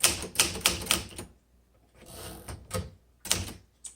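A 1957 Remington Quiet Riter vintage typewriter being typed on, with close, crisp bursts of rapid keystrokes broken by short pauses and a softer mechanical shuffle in between.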